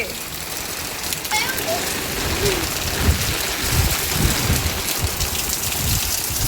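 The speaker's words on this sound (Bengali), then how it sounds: "এত বৃষ্টি হয়ে গেছে" Heavy rain pours steadily in a dense hiss, with low rumbles of thunder rolling underneath and faint voices now and then.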